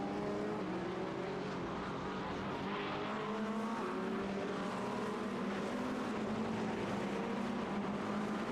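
A race car's engine drones steadily on the Le Mans circuit in a 24-hour race through the Porsche curves, a loud continuous whine whose pitch rises and falls with gear changes and throttle.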